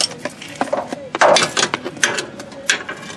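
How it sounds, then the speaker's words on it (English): Hand tools work on the timing belt tensioner of a mid-1990s Lexus/Camry V6 engine, producing close metallic clicks, ratcheting and knocks in an irregular series, with brief sharper clanks. "how easy it is to do this tensioner"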